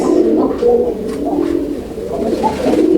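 A pigeon coos repeatedly, soft low rolling calls in a steady rhythm, close by with no talking.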